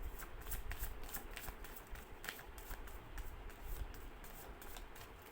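Tarot cards are shuffled by hand in a steady run of soft, papery riffles and flicks, faint and close, with no voice over them.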